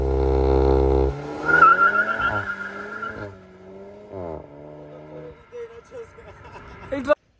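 A Volkswagen Golf 8 GTI using launch control gives a loud engine burst that quickly falls away into fainter rising revs through gears, with speech-like voices and cabin noise mixed in.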